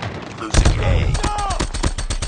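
Rapid gunfire in a chaotic 10 versus 10 online shooter match, a dense burst of loud, close shots and automatic fire with game voice lines mixed in.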